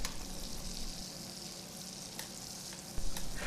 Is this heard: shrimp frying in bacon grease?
yes